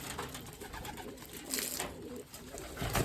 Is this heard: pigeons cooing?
yes